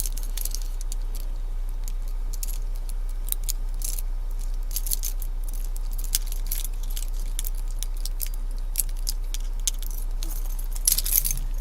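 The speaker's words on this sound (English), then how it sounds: "And now we have car keys." Car keys jangle in repeated light metallic clinks and rattles, close and fairly loud over a steady low hum, with no talking, during a roadside DUI arrest.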